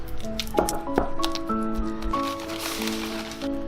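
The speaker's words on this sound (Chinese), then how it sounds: "然后给它捣成泥" Steamed, peeled taro is pounded into a paste in a large bowl, giving soft, wet squishing thuds over a steady background of tonal music, close and continuous.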